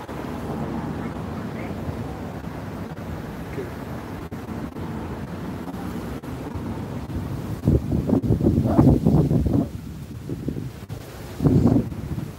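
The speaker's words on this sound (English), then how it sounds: "Hope y'all can hear us a little windy out here." Wind buffets a microphone outdoors in a steady, rumbling roar that swells into louder gusts near the end, with no clear speech over it.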